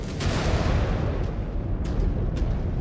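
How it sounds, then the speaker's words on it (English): A missile explosion in the mech combat game Mechwarrior Clans, a heavy low rumbling boom that rolls on for several seconds, dense and loud, with a couple of faint higher crackles on top. "Missile."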